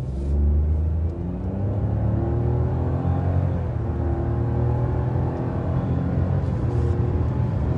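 A 2020 Honda City 1.0 Turbo accelerates hard in a top speed test, its engine note climbing steadily in a loud, sustained interior drone with rising harmonics and road rumble, no talk over it.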